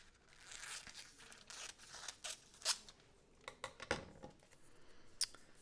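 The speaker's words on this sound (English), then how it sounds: "we'll pull out those rolls and cut them to size to fit on these acetate pieces here" Scissors snipping and crinkling through thin colored foil rolls being cut to size for acetate craft pieces, faint close cuts and rustles in irregular bursts with a few sharper snips, no voices.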